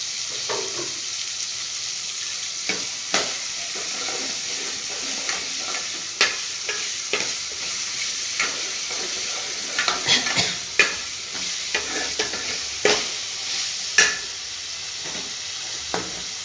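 Ginger and garlic fry in a pan with a steady close sizzle, while a spoon stirs and scrapes in scattered sharp strokes. No one speaks.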